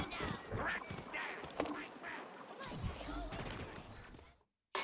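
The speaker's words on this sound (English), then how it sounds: "Shooting my corpse?" Halo Infinite gunfire aimed at a downed player's corpse: a dense run of shots and impacts in a busy game mix, with voices faintly underneath, before a sudden drop to silence.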